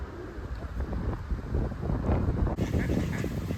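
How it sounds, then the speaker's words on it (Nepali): Ducks quack in an open park beside a river, several calls scattered over a windy, blustery background, moderately near and fairly faint. "हाँस छ, परेवा छ, ठुलो हाँस"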